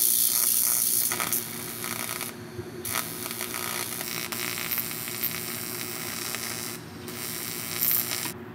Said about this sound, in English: over to the TIG welder now. We'll do some aluminum welding.